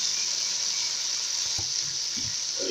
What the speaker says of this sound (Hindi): अब हम इसमें डालेंगे अपने लोबिया।